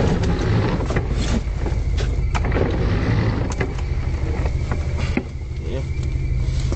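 A Caddy car drives along with a continuous engine and road rumble, wind noise and scattered rattles and knocks from inside the cabin, close and fairly loud throughout.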